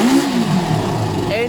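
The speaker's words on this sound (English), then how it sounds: "Instant revs all throughout the rev range." A Kawasaki ZL600 motorcycle engine, just carb-synced, revs up and drops back in quick throttle blips, the pitch rising and falling close by, with a voice talking over it.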